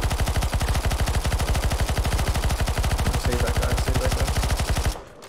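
Rapid sustained automatic gunfire rattles loud and close in CS:GO Zombie Escape, firing continuously for about five seconds before cutting off, with a brief voice over the shots.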